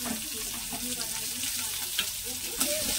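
Chopped onion hits hot oil seasoned with five-spice and fried chilli, giving a steady close sizzle with a few scraping stirs and small pops throughout.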